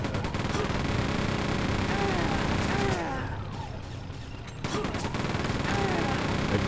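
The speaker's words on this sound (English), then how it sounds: "I got the chain gun again." Chain gun firing in Quake II: Call of the Machine, a dense, continuous rattle of rapid automatic shots that briefly eases off midway and then resumes at full intensity, loud and steady throughout.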